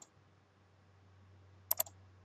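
A computer mouse clicks on a software button: two or three quick, faint clicks close together near the end, against a quiet, steady electrical hum.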